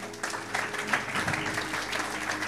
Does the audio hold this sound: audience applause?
yes